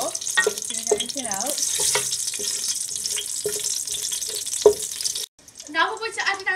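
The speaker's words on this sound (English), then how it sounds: "we're going to add in 1/4 cup of oil and fry our seeds in the oil before doing anything" Seeds fry in oil at the start of a chicken kofta biryani, giving a steady close sizzle with stirring clatter on top, then a short cut to fresh sizzling.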